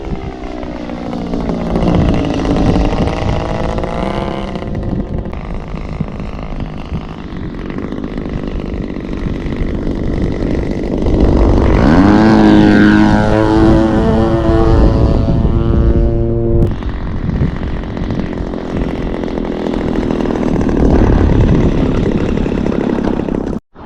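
A Starfire RC model airplane's engine whines steadily through takeoff and flight, its pitch sweeping up and down as the plane passes, loud and continuous with no talk.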